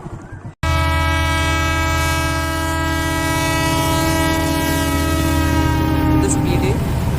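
Train horn blasting loud and sustained as an express train pulls out of Nellai station platform, the long harmonic blare holding steady over rumbling rail noise after a brief moment of quiet.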